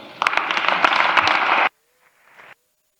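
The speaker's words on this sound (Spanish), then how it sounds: "los aplausos de largos, cálidos, calurosos" An audience applauds after a speech by Pablo Casado, a dense burst of clapping that cuts off abruptly, followed by a brief faint rustle and then silence.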